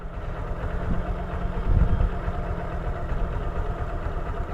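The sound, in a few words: scooter wheel spinning in place on a steep slope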